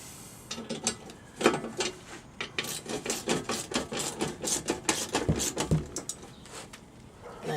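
A ratchet tightens a nylon lock nut on a saw stand, with rapid clicking pawl strokes in quick rhythmic runs, close and moderately loud, plus a couple of dull knocks near the end.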